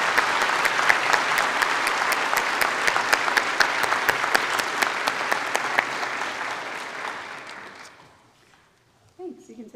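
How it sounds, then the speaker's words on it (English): A large audience at a college matriculation convocation applauds, dense steady clapping that carries for about eight seconds and then fades out, with a voice speaking briefly afterward. "join me in a round of applause to say thank you."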